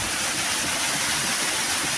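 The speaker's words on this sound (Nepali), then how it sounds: "भइसकेपछि पानी चाहिँ यसरी तल झर्छ।" Water pouring steadily down from a traditional Nepali watermill, a loud, continuous rushing roar heard close and alone.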